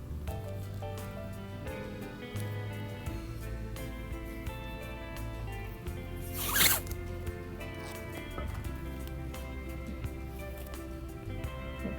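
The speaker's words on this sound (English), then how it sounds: "I'm going to use my Sandblast vinyl tape" Vinyl sandblast stencil tape is pulled from its roll and pressed onto granite, a close, continuous scratchy rustle with a brief louder ripping tear midway.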